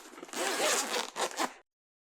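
Zipper on a limited edition Steam Deck OLED carrying case being pulled open close up, one long rasping zip followed by a shorter second pull, then silence.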